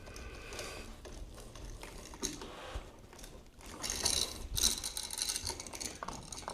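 Screws tightened down on wires in an electrical box for a high bay light, with soft ratcheting clicks and small metallic scrapes close by as the screwdriver turns, growing a bit louder toward the end.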